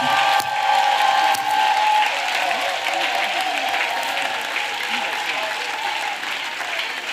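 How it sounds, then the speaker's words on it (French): Congregation at a church gathering applauds loudly and continuously, a broad sustained roar of many hands with faint crowd voices mixed in throughout. "Acclamation à Jésus-Christ. Clap for Jesus Christ."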